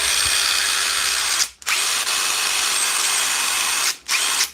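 A repaired DeWalt power tool runs at full speed with a steady high-pitched whine, cutting out twice in brief stops before spinning back up, loud and close with no talk.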